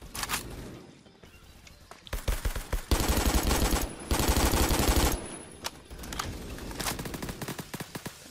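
Gunfire in the Roblox shooter Phantom Forces: bursts of rapid automatic fire with sustained loud stretches of continuous shooting, then scattered shots and footsteps, heard alone with no talk.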